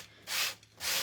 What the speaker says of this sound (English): I'm going to sand this down just a smidge